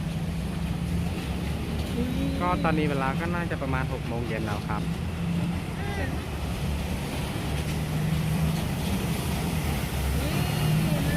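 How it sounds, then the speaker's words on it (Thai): A large boat arrives on the water at dusk, its steady low rumble mixing with wave wash and wind buffeting the microphone, while someone talks over it throughout. "ตอนนี้เรือก็กำลังมาอีกลำนะครับ"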